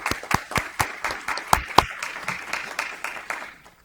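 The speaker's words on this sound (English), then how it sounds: "we can give them applause" Scattered applause at a county commissioners' meeting, a handful of distinct, fairly close claps in an uneven rhythm that thin out and stop within about four seconds.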